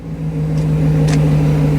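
A 1993 Mercedes SL500 engine running steadily at close range, holding a strong low hum with a slight rise in intensity partway through, with no one speaking.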